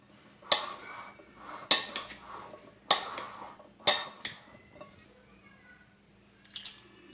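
Chickpeas and potatoes being mixed in a bowl for chana chaat, with four sharp spoon-against-bowl knocks at a steady pace, followed by softer scraping and stirring sounds.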